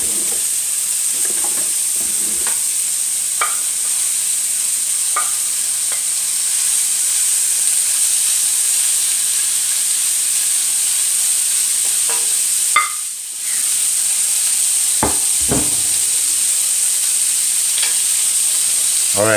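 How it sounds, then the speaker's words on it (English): Bacon lardons in a hot pan give a steady, close sizzle and frying hiss, broken by occasional clinks and scrapes of a utensil stirring them. "at this point, we're just rendering that bacon."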